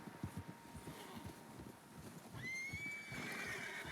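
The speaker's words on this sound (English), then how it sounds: "Horses, quite a few of them." Horses in the Red Dead Redemption 2 video game snort and shift with soft hoof clops, then one lets out a long, clear whinny that carries to the end over faint wind.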